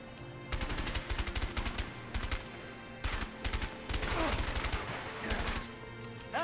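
Gunfire in the video game A Way Out, tight bursts of rapid shots separated by short pauses, loud and close, with a little speech between bursts.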